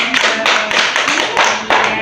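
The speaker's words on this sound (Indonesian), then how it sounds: "Tepuk tangannya." A small audience at a mattress therapy session claps hands together, a dense close burst of applause, fairly loud and steady with a few stronger swells, no talk over it.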